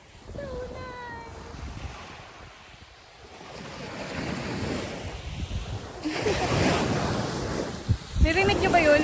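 Ocean waves break on a beach at Batangas in the Philippines, with a steady wash of surf and wind rumbling against the microphone. A voice speaks near the end, and a louder surge builds toward the close.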